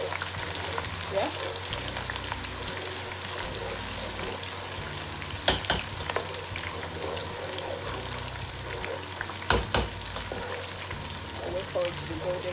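Chicken pieces fry in hot oil for a Nigerian chicken stew, with a steady crackling sizzle throughout, close and fairly loud, and a couple of sharper knocks or pops around the middle and toward the end.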